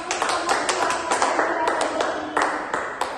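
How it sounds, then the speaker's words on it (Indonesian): Audience clapping in a university classroom after a group presentation, a dense run of claps with sharper individual hits standing out, fairly loud and steady for a few seconds. "Tepuk tangan."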